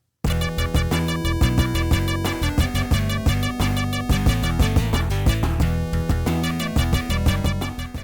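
Sega Genesis game music built with the GEMS sound driver, played through flawed emulation so the closed hi-hat turns into a harsh, noisy clatter: a dense, loud looping tune with steady rhythmic percussion hits running throughout, no voices.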